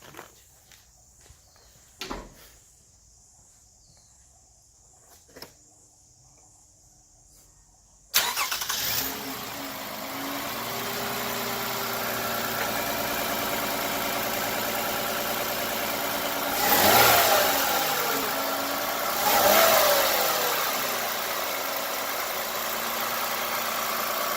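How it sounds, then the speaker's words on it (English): A Toyota Camry engine cranks and catches after a few quiet seconds with footsteps, then idles steadily with two brief revs, running with an old, unchanged engine air filter. "I'm going to start up the engine just for you to have a hear."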